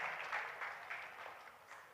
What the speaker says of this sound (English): Please give Miss Barry a round of applause